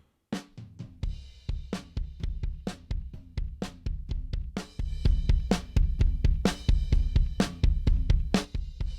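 Kick and snare drums from a mix squeezed by heavy 6:1 compression, a driving beat of thick booming kicks and sharp snare cracks whose tails swell and bloom between hits, loud and dense throughout.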